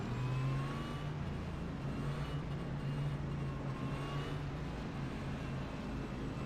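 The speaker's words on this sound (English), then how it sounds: "the engine sounds good" A NASCAR Next-Gen race car engine hums and revs steadily under constant road and wind noise, a continuous droning whir with no pauses and no talk.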